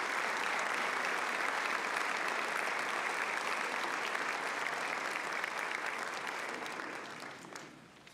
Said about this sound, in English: Let's have one final round of applause for the 2026 Ivy Day royalty